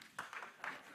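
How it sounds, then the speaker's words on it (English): Audience claps at a Techstars demo day pitch, a few sparse, soft claps heard at a distance against a faint background. "I'm gonna clap it up for a G."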